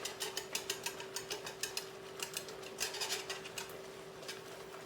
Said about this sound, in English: I'm just going to quickly give this a little whisk to help to make sure this is all incorporated.